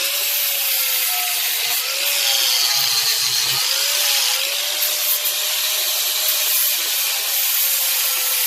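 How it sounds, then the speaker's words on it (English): A grinder grinds down the end of a metal piece for a camp table in a workshop, a loud continuous abrasive hiss and whine running steadily throughout with slight wavering pitch and no talk. "we're going to have to get a little wee bit more off the end of this with our grinder"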